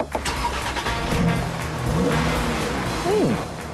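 A Porsche Cayenne diesel cranks and fires up with a sharp start, settles into a smooth, steady mid-pitched idle, then gives a brief rev near the end, heard close with no talking.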